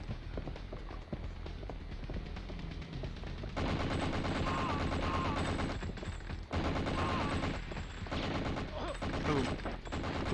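Rapid gunfire crackles in the PS1 shooter 007: The World is Not Enough, with repeated automatic bursts and shots over game sounds and a busy backdrop, growing denser partway through.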